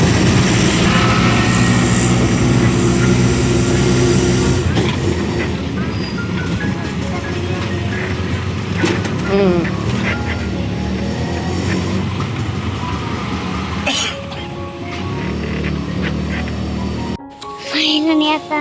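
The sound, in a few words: riding in an auto rickshaw to the station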